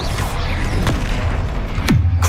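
A Confringo fire spell explodes in Hogwarts Legacy with a sharp boom and a second deep thud shortly after, close and loud over game ambience.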